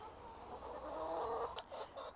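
Chickens cluck softly nearby, a few low, murmuring clucks followed by short sharper calls, with no talking.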